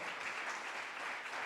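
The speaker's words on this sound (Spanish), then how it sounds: "Dale un aplauso a Dios por eso" A church congregation claps together in a short, dense burst of steady applause, filling the room without pause.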